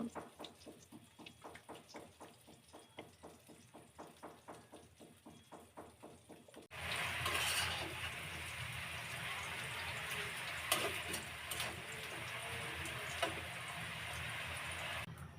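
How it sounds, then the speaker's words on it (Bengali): Taro boiling in water with salt and turmeric: a quiet, regular pulsing bubble that suddenly gives way to a steadier, fuller rushing boil, no voices. "একটু লবণ আর একটু হলুদ দিয়ে কচুগুলো সিদ্ধ করে নিব"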